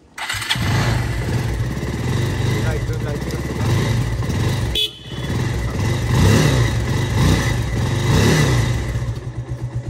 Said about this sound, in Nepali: सिलप्याक इन्जिन हजुरले साउन्ड के कस्तो सुनिरहनु भएको छ